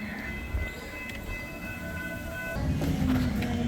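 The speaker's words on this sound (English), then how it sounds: "we just kind of paused that for a second there to let the train go by" Amusement park train at Busch Gardens Williamsburg passing close by on tracks that cut across footpaths, a steady rumbling roll with a sustained tonal hum that grows louder and heavier toward the end.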